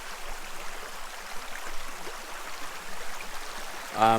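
Canfield Creek, a cold, clear spring-fed stream in a state park cave area, flows with a soft, continuous wash of moving water, close by and fairly quiet, ending with a brief louder burst.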